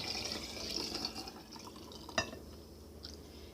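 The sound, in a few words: pouring elderberry syrup into a mason jar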